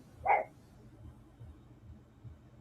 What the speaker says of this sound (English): Shut that dog up, will you?